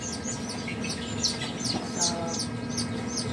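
Newly hatched Dominant Black chicks at a poultry hatchery chirp in a rapid, repeated chorus of high peeps over a steady background hum.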